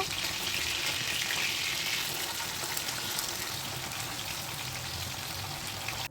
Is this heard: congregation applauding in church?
no